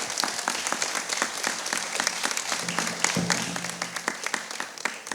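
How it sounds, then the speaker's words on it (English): A live audience at an arts and culture event in Palazzo Diedo, Venice, claps steadily for a departing speaker, a dense wash of many hands with no talking over it. "Big round of applause for Fabien."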